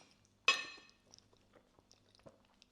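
Someone bites into bacon mac and cheese with a crispy top, one sharp crunch followed by soft, quiet chewing sounds up close.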